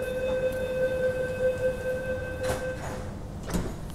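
A steady high electronic tone sounds over a low rumbling hum on an MTR Kwun Tong Line Q-Train, with a couple of soft sliding thumps near the end as the doors close slowly.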